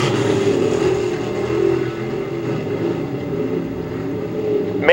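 Race cars roar around the New Egypt Speedway oval in a continuous loud engine drone that swells and fades slightly as the pack passes, with no voices over it.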